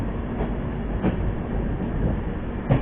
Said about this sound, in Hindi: ये हम लोग की जो ट्रेन है वो कर्व पे